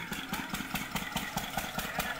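A water pump engine runs beside a spinach field to irrigate it, putting out a steady, mid-pitched idling chug with an even pulsing rhythm, heard fairly close with no talk over it.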